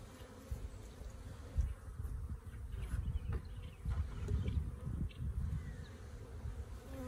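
Honeybees from a newly installed 3 lb package buzz steadily and close by as hive frames heavy with pollen and stores are lifted out for a first inspection, a dense low hum that swells and dips but never stops.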